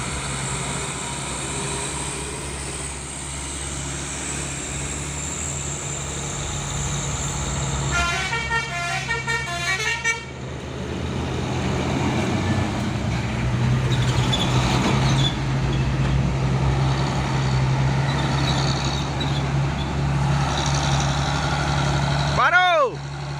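Heavy trucks grind slowly up the Bukit Kodok hill climb, a loud continuous low engine drone with deep rumbling, a burst of horn toots partway through and another horn near the end.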